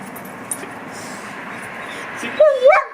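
A dog gives a couple of sharp, high yips near the end after a quiet stretch, close by.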